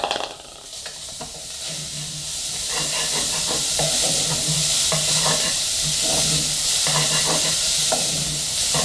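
Half a chopped onion sautéing with garlic in a pan for wheat soup, a loud continuous hissing sizzle with repeated spoon stirs scraping through it, close up.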